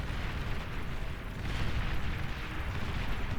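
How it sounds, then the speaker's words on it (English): Windmills chain-exploding in the real-time strategy game Beyond All Reason, a dense, continuous roar of rumbling blasts that stays loud and steady throughout, with no speech. "The windmills chain react and go up in smoke."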